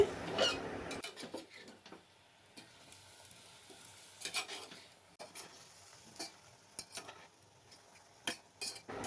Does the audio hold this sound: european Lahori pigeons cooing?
no